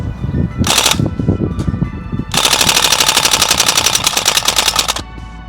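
A Northeast UZI gas blowback airsoft gun fires two loud rapid bursts at close range, a short volley and then a longer sustained stream of sharp mechanical clacks, with quieter clicking between them.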